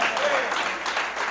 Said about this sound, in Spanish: ¿Le damos un aplauso a Jesús en esta hora?